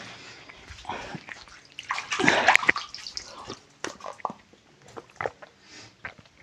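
Water flowing and splashing in a rock pool beside a cave on a forest path, a steady close wash with brief louder splashes in the middle.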